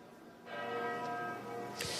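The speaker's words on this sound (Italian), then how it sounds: "Qui siamo in centro, suonano le campane, ma cercheremo di farci sentire." Church bells ring in a town centre as a muffled, resonant peal with overlapping sustained tones swelling after a quiet start, heard from some distance.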